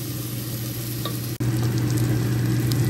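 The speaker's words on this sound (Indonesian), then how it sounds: "kita masukkan tomatnya yang sudah di blender" Blended tomatoes hit hot oil for a spicy Padang-style seafood sauce, giving a steady, close, hissing sizzle that dips briefly for a moment and then carries on evenly.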